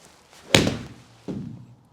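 A Pro V1 golf ball struck with a pitching wedge, giving a sharp close impact followed by a fainter second thud, with no talk.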